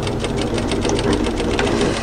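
A sewing machine back tacks at the hem of a camisole, a loud, steady, fast mechanical whir and needle rattle that runs close up for the whole stretch with no talking.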